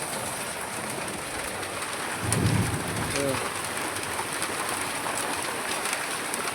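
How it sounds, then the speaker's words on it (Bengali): Big hailstones and rain fall heavily over a farm, a constant close roar of pattering ice and water, with a brief human voice rising faintly through it midway. "দেখো কত শিলাবৃষ্টি, দেখো কত বড় বড় পড়ছে দেখছো"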